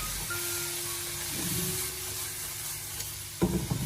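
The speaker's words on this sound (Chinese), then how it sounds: "这一步我们只需要将腊肉腊肠给它炒出锅气" Pre-steamed Chinese cured pork and sausage stir-fry in a hot wok with a steady close sizzle, ending in a burst of scraping as the spatula tosses the meat.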